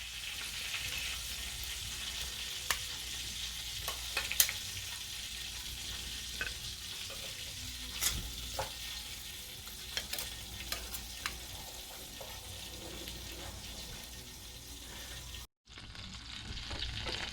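Oxtail sears in a hot pan with a continuous, even sizzle and occasional sharp pops and spatters, the frying holding steady for a long stretch before a brief cut-off near the end.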